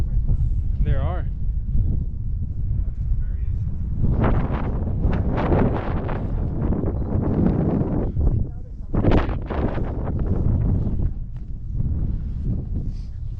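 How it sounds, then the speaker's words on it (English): Strong wind in open Yellowstone country buffets the microphone with heavy, gusting low rumbles, loud and continuous, while people talk beneath it. "there's a lot of wind"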